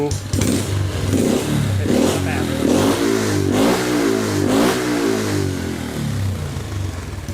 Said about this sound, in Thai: อันนี้รอบเครื่อง แบบตอนยังไม่สั่งงานนะครับ